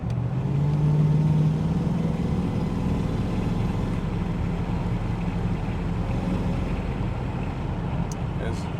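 A 1960 Jaguar Mk2 sedan engine drones and pulls steadily on a curvy road, heard from inside the cabin as a continuous low rumble with road noise, rising slightly early on.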